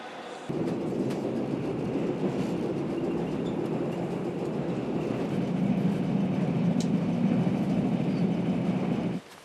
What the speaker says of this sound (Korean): 매주 금요일 새벽 용산역에서 기차를 기다리는 이영남 교수.